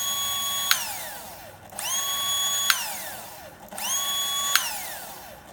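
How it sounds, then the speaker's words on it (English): An electric power tool motor runs with a steady high whine, then coasts down after the trigger is released, its pitch sliding smoothly downward. The pattern repeats three times, each coast-down cut off by a restart. "you can get an idea how long it takes for the motor to coast down when I release the"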